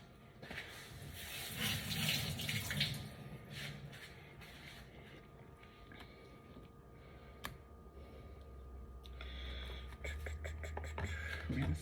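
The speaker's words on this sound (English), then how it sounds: "Let me rinse this stuff off." Tap water runs over fruit being rinsed at a sink, a steady splashing stream with shifting flow and a few handling bumps, loud at first and then quieter.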